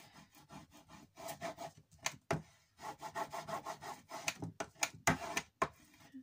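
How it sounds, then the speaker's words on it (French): A bone folder rubs back and forth over paper to smooth it in a handmade album, giving a steady series of dry, scratchy strokes in an irregular rhythm with a few sharper taps. "Et maintenant, avec le plioir, je viens étaler."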